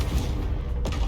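A Confringo fire spell cast in Hogwarts Legacy, a loud booming blast with a dense, noisy body and a second burst near the end, sustained and close.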